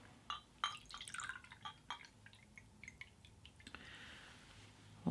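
Peanut butter and jelly mead pours into a small glass, a run of close, bright drips and splashes with trickling liquid that settles into a soft, steady fill toward the end.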